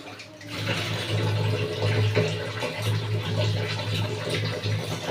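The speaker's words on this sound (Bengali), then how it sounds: "আর এই চাল ধোয়া জলটা এখন দিয়ে দেবো।" Rice-washing water poured out in a steady, continuous stream, a close, even splashing that runs for several seconds with no talk.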